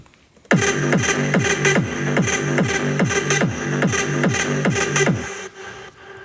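Layered big-room EDM synth samples pound alongside a kick and bass in a steady four-on-the-floor pattern, with a punchy low thump on every beat under bright chord stabs, loud and continuous before stopping abruptly near the end.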